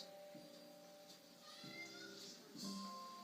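A cat meows a few times in drawn-out, tonal calls, with quiet background noise between them.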